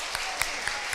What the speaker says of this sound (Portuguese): Pode sentar, pode aplaudir a Deus aí.